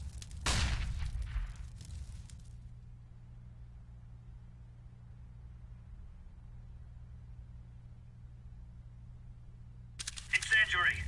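A flashbang grenade goes off in Counter-Strike: Global Offensive with one sharp burst near the start, followed by a long low steady hum and another brief noisy flare right at the end.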